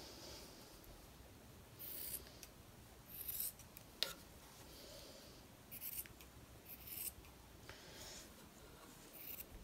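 Scissors snipping through a fabric weaving to cut it in the middle, a few faint, brief crisp snips with rustling of cloth at a close distance in a quiet room.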